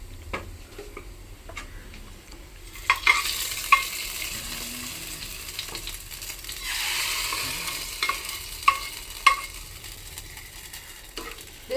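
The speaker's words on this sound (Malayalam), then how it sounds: "ഇനി നമുക്കിത് കറിയിലോട്ട് ഒഴിച്ച് കൊടുക്കാം" Hot oil tempering of onion and curry leaves is poured into a paneer and green pea stew, bursting into a loud, steady sizzle after a few quiet seconds, with small clicks of a spoon stirring throughout.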